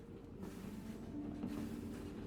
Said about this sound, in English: Train, train sound.